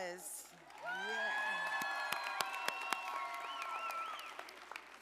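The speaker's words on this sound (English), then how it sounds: "one more round of applause" Steady applause from a graduation audience honoring Unitech Training Academy graduates, a sustained wash of clapping with a few scattered whoops, while whistling, sliding tones ring over it and sharp pops punctuate it.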